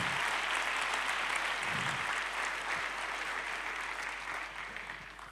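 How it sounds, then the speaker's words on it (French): Church congregation applauding during a shared Sunday service held at a labour exchange hall in Lyon; broad, steady clapping from many hands continues for several seconds and fades slightly toward the end. "Merci pour vos applaudissements"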